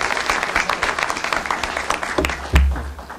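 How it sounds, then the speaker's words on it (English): An audience applauds at a ribbon-cutting ceremony for a new emergency operations center, a steady dense round of clapping that swells, then fades out near the end. "So let's give them a round of applause."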